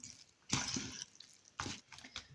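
Seasoned minced meat mixed with milk, salt and spices gets worked by hand in a bowl, giving quiet wet squelching bursts in two short rounds.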